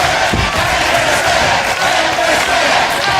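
An Impact Zone wrestling crowd roars and cheers during a match, a dense, loud, sustained wash of voices that rises and falls slightly without a break.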